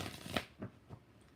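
A deck of tarot cards is shuffled close up in three quick riffling bursts, soft and papery, with nobody speaking.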